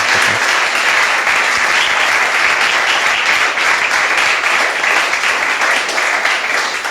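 A church congregation applauding, a dense, even, loud round of clapping that holds steady throughout with no voices over it.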